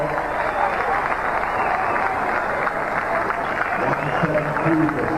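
Cricket crowd at a 1999 West Indies versus Pakistan match in Toronto cheering a boundary four, a steady distant roar of cheering and clapping with a commentator talking over it.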